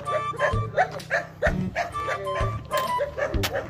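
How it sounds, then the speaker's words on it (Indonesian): Several dogs bark and yip repeatedly at close range near a police post in an Indonesian neighborhood, with short bursts spread across the whole clip over a busy outdoor background. "saya digonggongin anjing guys."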